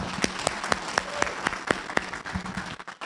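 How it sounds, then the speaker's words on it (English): A seminar audience gives itself a round of applause as a few sparse, distinct claps ring out in a roughly regular rhythm in a quiet room, fading toward the end. "Give yourselves a round of applause."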